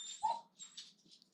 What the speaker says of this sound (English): oh my gosh, dog, calm down